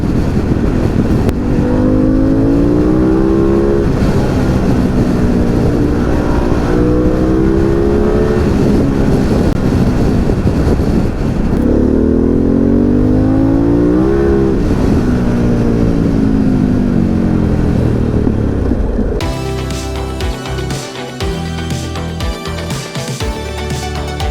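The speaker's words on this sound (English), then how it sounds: "I really want to hear that exhaust again." A Harley-Davidson Pan America motorcycle engine revs hard and repeatedly, its loud exhaust rising and falling in pitch close up, with no talking.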